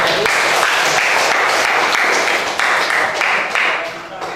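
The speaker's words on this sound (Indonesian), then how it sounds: "Yuk, tepuk tangan" A classroom full of students applauds, a dense, steady burst of many hands clapping together for about four seconds before tapering off at the end.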